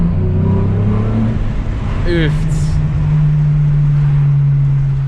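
Hyundai Tiburon fitted with a high flow cat and cannon exhaust, engine roaring loud and close as revs drop and then settle into a steady hum, with a man briefly exclaiming over it.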